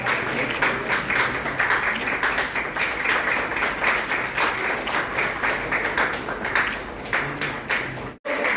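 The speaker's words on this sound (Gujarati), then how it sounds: "તાળીઓનો પ્રયત્ન કરો." An audience at a student felicitation ceremony in Wankaner applauds, a dense, sustained clatter of many hands clapping for several seconds before it breaks off briefly near the end.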